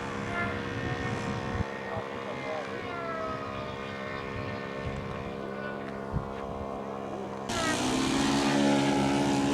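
A control-line model P-51 at a flying circle, its small engine holding a buzzing, droning tone with strong harmonics that swells louder and higher toward the end, with voices talking over it.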